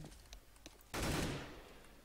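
A burst of gunfire in the video game CS:GO, a few faint shots followed by a loud, sudden volley that rings and fades over a second, without speech.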